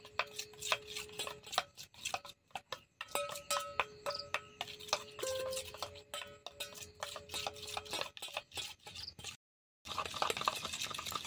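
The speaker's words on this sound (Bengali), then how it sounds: "আমি অল্প অল্প দিচ্ছি আর এইভাবে আমি মিশিয়ে নিচ্ছি" Raw milk is stirred into a mixture in a bowl with a utensil, producing rapid, uneven clinks and taps against the bowl with short pauses and a brief silence before soft scraping resumes.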